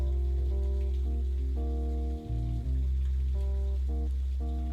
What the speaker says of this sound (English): Is that Rain in the game?